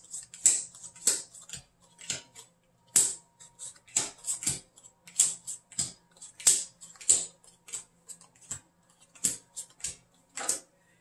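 Playing cards dealt and placed out on a table for a counting card game, a string of sharp, light slaps and clicks in an irregular rhythm, close by and quiet, with no talking.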